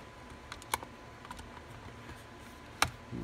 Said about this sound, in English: Don't forget to plug in your GPS connector underneath. Actually, you should hear a nice click.